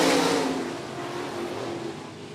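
Several race cars roar as they accelerate from a green-flag start at 105 Speedway, a loud, steady wash of engine noise that eases slightly after the first moment.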